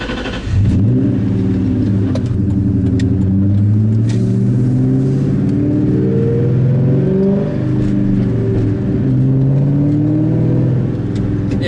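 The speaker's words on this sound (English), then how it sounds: "now we're actually going to take the Cobra out for a drive" A 2001 Mustang Cobra with its rear seats removed revs loudly from inside the cabin while driving, the engine rising and falling through gear changes with a steady road roar beneath.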